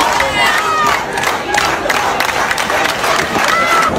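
A wrestling crowd roars and cheers loudly and continuously behind Shawn Michaels during an Undertaker versus Shawn Michaels two-out-of-three-falls match, a dense wall of shouting voices.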